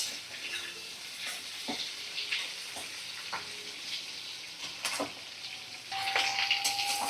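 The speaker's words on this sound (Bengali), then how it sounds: "এটা ভালো করে আমি নাড়াচাড়া করে মিডিয়াম ফ্লেমে রেখে ভাজা করে নিচ্ছি" Potato and papaya pieces fry in a pan over a medium flame and are stirred, giving a continuous soft sizzle broken by light scraping and clinking strokes, with a brief faint ringing tone near the end.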